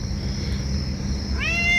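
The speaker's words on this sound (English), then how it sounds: "I think it's a male cat" A male cat gives a meow near the end, a short harmonic call rising clearly over steady low outdoor background noise in an early-morning garden after rain.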